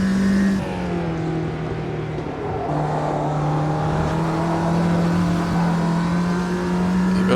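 Ginetta G40 race car engine in the Automobilista 2 racing game, a steady loud drone with a sustained low harmonic tone that dips briefly and then holds, with no talk over it.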